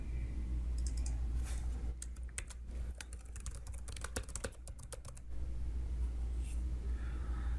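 Computer keyboard typing as text is entered into a software field, a quick run of light, close key clicks for a few seconds over a steady low room hum.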